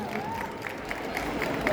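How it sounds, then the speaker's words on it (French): Audience at a cosplay contest prize ceremony applauding a first-place solo winner, a steady wash of clapping with some crowd noise and voices mixed in throughout. "on peut l'applaudir bien fort"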